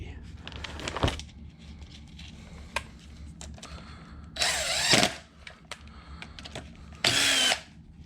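A tool tightens connecting rod bolts on a Mercury XR6 outboard engine, giving short whirring bursts with clicks and clanks from a nearby workbench and a person talking under them.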